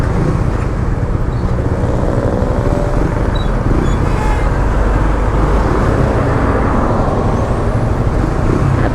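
A manual car creeping through traffic on half clutch gives a loud, continuous engine and road rumble with no talk.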